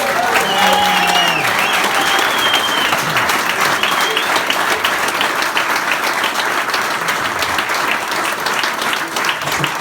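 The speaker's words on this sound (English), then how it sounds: "We're just going to take you on and put a big round of applause." A big round of audience applause at a Cycle Against Suicide charity event in Ireland, a dense, loud, steady clapping that fills the whole stretch, with some voices and whistles mixed in near the start.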